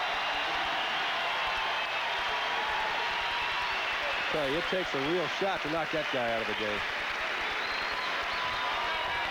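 A crowd at a 1984 Michigan versus Illinois college basketball game applauds with a broad, sustained wash of clapping and cheering, while a commentator talks over it in the middle of the clip.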